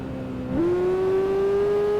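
A Suzuki GSX-R 400 racing motorcycle in the Tourist Trophy game shifts gear and then holds a high, steady engine whine that climbs slowly as it accelerates.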